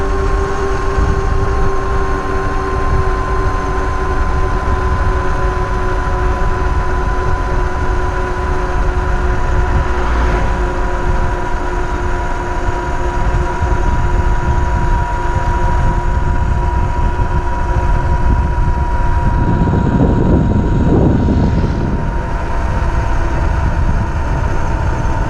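A motorbike pulls uphill on a ride to Mae Kuang Dam with a loud, continuous engine drone that holds steady throughout, mixed with rushing wind and a brief rougher swell near the end.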